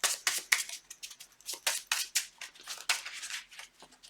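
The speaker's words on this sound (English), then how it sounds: "So we're going to shuffle our encounter deck right here." Game cards from an encounter deck being shuffled by hand, a close, quiet series of crisp riffling bursts in irregular rhythm, alone without talk.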